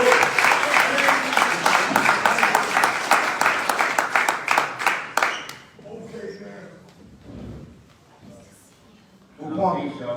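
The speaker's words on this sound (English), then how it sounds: "let's give them a warm round of applause" An audience gives a warm, dense round of applause that runs for about five seconds and then fades out, followed by sparse talk and a few faint voices.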